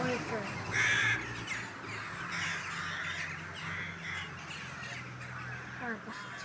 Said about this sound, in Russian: Вот птицы летят.